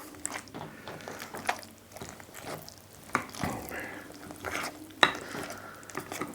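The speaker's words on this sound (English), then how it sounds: "So I carry on mixing it in until I can't see any" A spoon works gluten-free bun dough in a bowl, giving soft, irregular scraping and thudding strokes with occasional sharper clinks against the bowl, close and fairly quiet.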